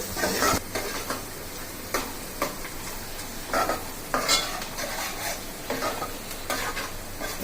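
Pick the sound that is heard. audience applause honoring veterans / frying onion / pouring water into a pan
frying onion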